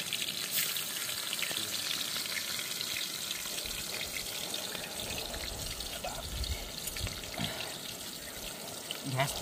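Onions frying in hot oil in a pan on a gas flame, with tomato, chilli and liver nearby: a steady, close sizzle with crackling spatter that runs without pause.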